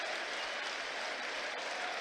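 Albion fans at a Brighton and Hove Albion versus Manchester United FA Cup match give warm applause as Danny Welbeck leaves the pitch, a steady, distant wash of stadium clapping, fairly quiet and unbroken throughout.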